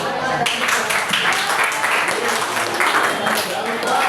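Students in a classroom burst into sustained, fairly loud clapping during a lesson on stopping bullying; the applause starts abruptly after a brief hush and continues steadily for several seconds.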